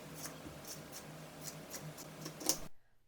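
Scissors cutting open pillowcase fabric, a string of soft rhythmic snips and fabric rustles at an even pace, close and quiet, ending abruptly in silence with no talking.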